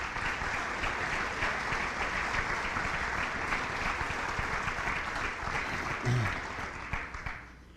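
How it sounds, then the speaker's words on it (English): Audience applause fills a hall of fame induction ceremony at a school athletic event, a steady dense wash of clapping from a large crowd that swells slightly near the end before tapering off. "So let's give them a round of applause"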